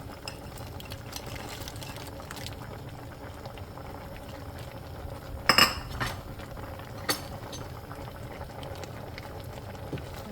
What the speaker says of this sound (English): I just want it to simmer a little bit.